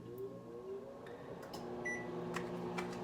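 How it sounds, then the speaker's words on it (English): A microwave oven hums steadily with a low, even drone, fairly quiet, with a few faint clicks and ticks and no talking. "I'm just gonna put this in the microwave for 1:30."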